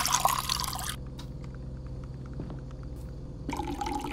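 Water poured into a cup inside the horror game Fears to Fathom: Woodbury Getaway, a short steady liquid trickle with faint drips between louder bursts of noise at the start and end, no talking.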